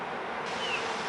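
A package of Bonac honeybees is hived outdoors while a dense swarm buzzes continuously, close and fairly loud, throughout a brief moment with no speech.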